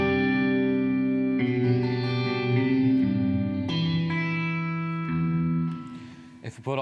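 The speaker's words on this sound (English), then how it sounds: "it's going to kill the dry signal of your guitar and you're going to get more reverb on top of it." An electric guitar played through the reverb of a Mooer Black Truck effects pedal, sustained chords ringing with a long, washy tail and the dry signal pushed back, loud and close.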